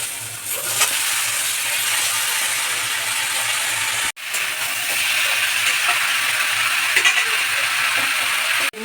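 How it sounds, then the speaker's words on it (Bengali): Chopped pumpkin greens hit a hot pan of spiced masala for a light prawn curry, bringing a loud, close, steady sizzle with scraping stirs. A brief break comes midway, then the sizzling continues to the end with no talking. "এখন এর মধ্যে কেটে রাখা কুমড়ো শাক দিয়ে দেবো"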